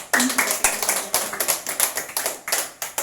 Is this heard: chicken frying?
no